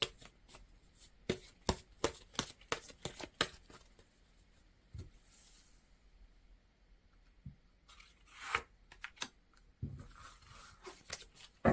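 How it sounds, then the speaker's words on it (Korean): Tarot cards being shuffled and drawn, with rapid papery flicks and snaps in quick bursts, then a pause, then a few sliding card sounds and more flicks. The sound is close and fairly quiet, with no voice. "좋은 카드 한 장만 더 뽑아볼게요"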